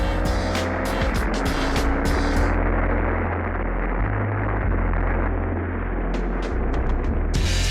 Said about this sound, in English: This is an engine noise that could get you into serious trouble.